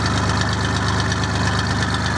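An Aveling Barford GRT road roller's low-hours engine idles smoothly with good oil pressure, a steady, close, continuous drone with no talking.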